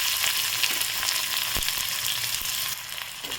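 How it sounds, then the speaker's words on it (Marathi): Onion fries in hot oil with cumin and garlic for spicy brinjal bharit, a loud, even sizzle with small crackles and a single knock of the spoon midway. "कांदा आता 10 मिनिट छान बारीक गॅसवर परतून घ्यायचा, लाल रंग येऊ द्यायचा"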